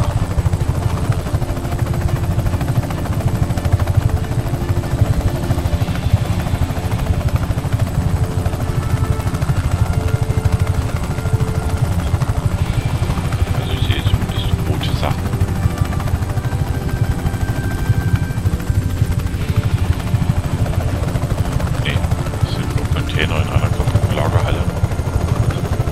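Helicopter in the video game Just Cause 3: a steady, loud rotor and engine drone runs throughout with a few faint game effects on top, and someone talks over it.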